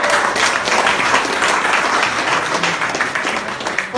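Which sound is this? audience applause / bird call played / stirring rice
audience applause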